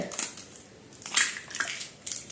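Two eggs are cracked into a mixer jar, giving a few close, quiet, sharp cracks and crunchy shell snaps spaced through a short moment.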